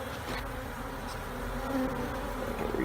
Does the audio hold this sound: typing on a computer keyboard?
no